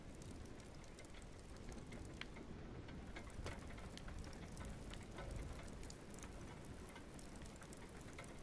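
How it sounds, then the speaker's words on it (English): Rainfall from the video game Dreams, a constant broadband patter and hiss of drops at even loudness across the whole stretch, with no one talking. "You have rain coming in."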